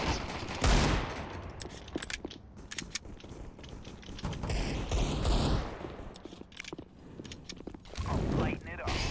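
Pistol gunfire in a CS:GO pistols-only casual match, a flurry of sharp shots in scattered bursts mixed with clicking game mechanisms and a player talking over the action.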